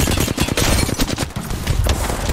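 Rapid overlapping gunfire in a video game, dense and continuous crackling shots throughout a short burst, loud and close.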